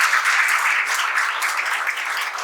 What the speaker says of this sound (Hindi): सबसे पहले जोरदार तालियां बजाएं।